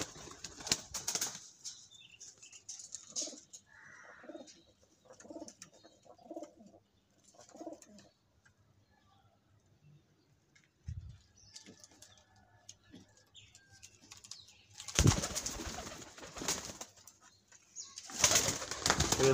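Pigeons at a one-day pigeon flying contest in Haripur, with soft repeated cooing and bursts of wing flapping close by, interspersed with quiet stretches and faint talk.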